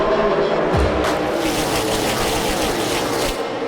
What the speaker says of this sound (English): A great restart for Suarez on the outside in the 41.